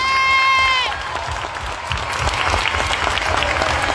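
A crowd breaks into steady applause with scattered cheering, following a brief high whistle-like tone at the start.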